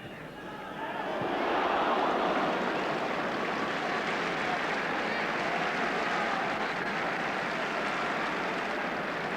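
A football stadium crowd roars and applauds steadily during a Switzerland v England match, a broad wash of noise that swells within the first two seconds and then holds.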